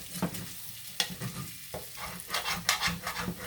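A spatula scrapes and stirs potatoes frying in a pan over lowered heat, giving several distinct scraping strokes over a steady sizzle. The sound is close and fairly loud, with no one speaking.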